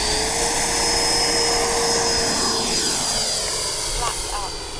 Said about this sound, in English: We're going to take off from this direction.